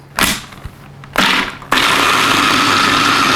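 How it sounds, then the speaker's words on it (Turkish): A kitchen blender starts up loud and close with orange chocolate tart ingredients and raw cacao, running in short bursts before settling into a steady, continuous whir. "Blenderımı çalıştıracağım."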